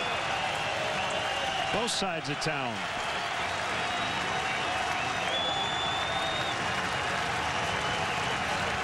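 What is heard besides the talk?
baseball crowd applauding and cheering at Cubs vs White Sox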